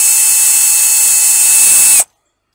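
A cheap Aldi power drill whines at a high, steady pitch while removing bolts from a Honda CB100N motorcycle, running loud and close for two seconds before cutting off abruptly into silence.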